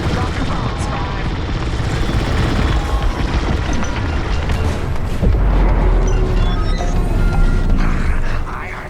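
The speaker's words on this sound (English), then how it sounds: "Drop your bombs, Five." Heavy explosions and rumbling blasts from bombs dropped during a Star Wars: Squadrons space battle, booming continuously with crackling bursts and a louder surge in the second half, with no talk.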